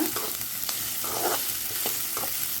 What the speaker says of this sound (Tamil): வெட்டி வச்சுருக்கிற வெங்காயத்தை சேர்த்தாச்சு வெங்காயம் வந்து நம்மளுக்கு என்ன ஆகணும் அப்படின்னா பொன்னிறமாக வதங்கணும்